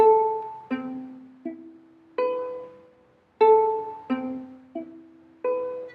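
Ukulele chord from a riff played one string at a time, a repeating series of clear plucked notes ringing and decaying, close and alone, moderately loud.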